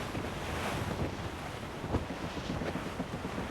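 Strong wind sweeps over the open sea in the Assassin's Creed Rogue video game, a broad steady roar with rushing gusts and waves around a sailing ship, no voices.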